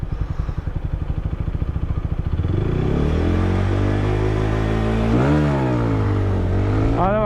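A motorcycle pulls hard through a 0-100 km/h run after being washed, its engine pulsing at low revs before climbing steadily, with a quick upshift and a rising whine near the end. Loud and close, with no talking.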